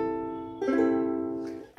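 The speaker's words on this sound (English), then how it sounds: "First of all, make sure your ukulele is nicely tuned." A tuned ukulele played as sustained strummed chords, a bright ringing chord held and then changed once, with a fresh strum at the very end, close and clear with no voices.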